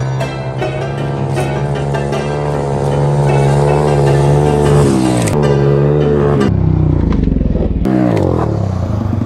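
Street-legal go-kart bought on eBay driving with a loud, steady engine drone that rises and falls in pitch, rattling and clattering over the run, with no talk.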